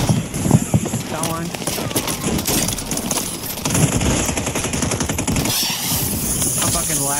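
Gunfire in the video game Warzone, bursts of rapid shots crackling loudly and close over a busy mix of game noise, with voices talking over it.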